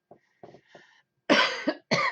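A few faint throaty hacks lead into two loud, harsh coughs close by, the last one cut short.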